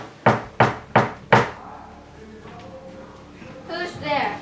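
Four firm knocks on a door come in an even rhythm during a third-grade school play of Macbeth. Quieter children's voices and stage sounds follow.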